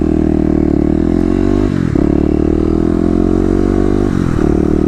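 A Kawasaki KLX250 dirt bike roars close and loud as it is ridden around a lot, its engine note dipping twice with brief gear shifts before climbing again.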